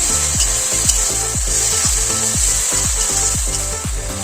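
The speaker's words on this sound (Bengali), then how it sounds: "এবার এটা ভালো করে নাড়বো যতক্ষণ না তেল ছেড়ে আসছে।" Tomato paste and green chili masala frying in oil in a pan, with a steady loud sizzle and a rhythmic scraping of a spoon stirring roughly every half second, close by and alone.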